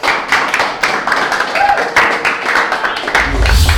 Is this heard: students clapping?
yes